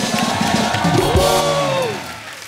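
A studio audience at The Kapil Sharma Show cheers and whoops for guests Armaan Malik, Amaal Mallik and Daboo Malik, with loud rising vocal cries over a dense crowd roar that eases off near the end.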